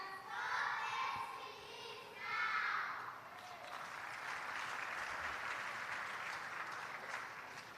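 An audience at an international conference applauds children, starting with bursts over an announcer's voice and then a sustained, even roll of clapping from a large crowd in a hall.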